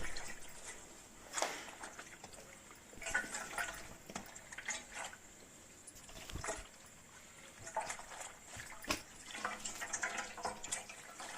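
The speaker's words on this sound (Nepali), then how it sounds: "सुतीको कपडालाई चाहिँ मजाले पानीमा भिजाउनुपर्छ" A cotton cloth is soaked in water, giving soft sloshing, dripping and trickling sounds. Several sharper splashes and squelches come as it is wetted and handled, fairly quiet and close.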